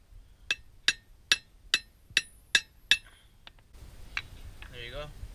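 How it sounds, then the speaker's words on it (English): A socket is hammered straight on until seated flush during a 2013 Subaru clutch, flywheel and pressure plate install: seven sharp, evenly spaced metallic strikes ring out close and loud, followed by a few softer clinks and faint handling noise. "Once it's almost flush, go ahead and hammer straight on."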